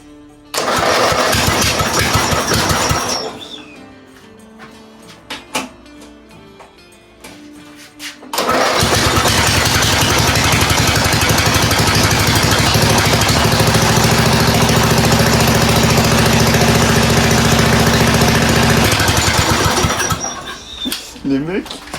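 A broken-down riding lawn mower tractor cranks, then its engine catches and roars loudly and steadily for about twelve seconds before cutting out, with an excited voice heard around it.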